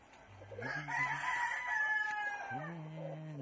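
A rooster crows nearby, a long drawn-out call followed by the start of another, with faint clucking around it.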